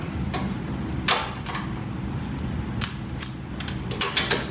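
Wrench tightening strut nuts on an Acura RDX during a strut replacement, a run of close, irregular metallic clicks and ratcheting taps with some louder knocks between them.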